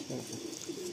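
Low, murmuring coos come from an old male Madrasi pigeon in Kolkata, brief and close, quiet over light background noise.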